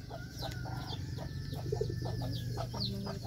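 Chickens cluck in a traditional village in Senaru on Lombok. The clucks are close and fairly busy, a run of short, irregular calls over a steady outdoor background for a few seconds.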